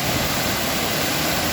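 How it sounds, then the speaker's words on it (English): Dyserth Waterfalls in North Wales, a 75-foot drop, gives a steady, loud, unbroken roar of falling water heard close with no voices over it. "So there we are, there's Dyserth Waterfalls."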